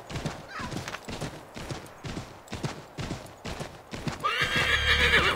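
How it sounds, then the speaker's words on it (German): A horse gallops in the game Assassin's Creed III, its hooves clip-clopping in a steady, rapid rhythm, loud and close, and a whinny swells near the end. "Gut, wir galoppieren mal ein bisschen."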